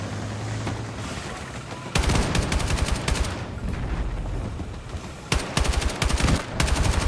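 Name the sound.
sniper gunfire in a video game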